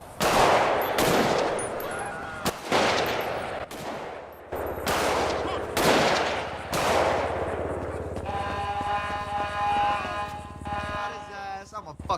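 A string of sharp pistol shots in the GTA V game ring out one after another at irregular intervals, loud and close, followed by a buzzing electronic hum, with a voice talking throughout.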